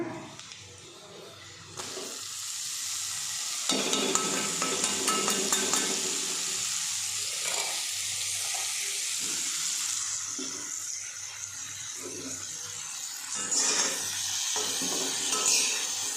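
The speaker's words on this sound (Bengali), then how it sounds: "আজকে আমি এই পেঁয়াজের মধ্যেই শুটকিটাকে ফ্রাই করে নেব" Dried icha fish frying in a pan with onions, a steady loud hiss and sizzle that swells and holds for the whole stretch, with occasional stirring scrapes and no talking.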